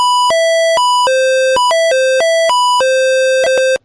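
The AUSION device's sensors answer a waving hand with a rapid, loud sequence of pure electronic tones jumping between pitches, some held and some clipped, for nearly four seconds with no voices.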